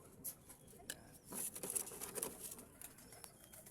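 Pigeons in a loft make soft cooing and fluttering sounds, faint and intermittent, with scattered rustling and pattering and no clear talk over them.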